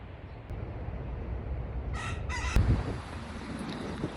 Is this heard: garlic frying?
no